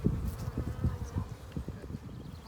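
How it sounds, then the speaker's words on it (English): Honey bees in their hive during an inspection, a low droning hum that pulses unevenly, close and fairly soft. "here they are in their house"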